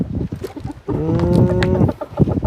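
Fighting cocks on a farm cluck and call in a short burst of drawn-out, tonal bird voices, close by, over a busy background of scuffling and other farmyard noise.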